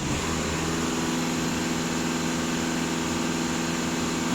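The diesel engine of a VW Passat B8 runs steadily at raised revs, giving a continuous, even mechanical drone with a low hum throughout, close and with no talk.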